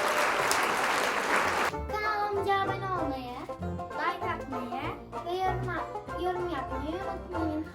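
Children applaud at the end of an outdoor obstacle-course game, a short burst of clapping and cheering that gives way to kids chattering and talking close by.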